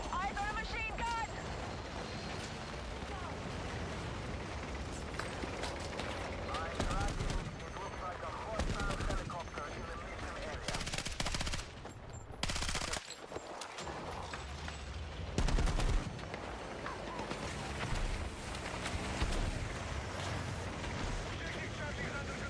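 Machine gun fire and gunshots crackle in a dense, constant online shooter battle with tanks and vehicles, loud bursts layered over wind and rumbling noise while players talk throughout.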